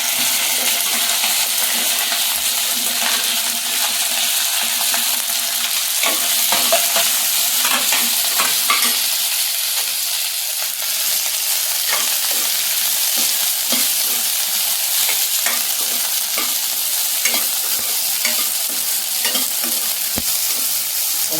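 Okra and curry leaves fry in a pan with a loud, steady sizzle that runs throughout, broken by frequent stirring scrapes and clicks.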